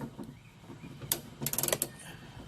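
A socket wrench ratchets in short quick clicks while loosening bolts on a Hyundai trunk latch, close and fairly quiet, with a couple of brief bursts separated by small pauses.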